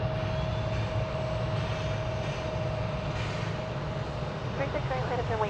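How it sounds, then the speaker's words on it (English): A Qatar Airways Boeing 777 taking off at Dallas-Fort Worth gives a continuous, loud jet roar that holds steady throughout, with faint voices creeping in near the end. "So that's one of the 2 Qatar daily flights here to Dallas-Fort Worth on a 777."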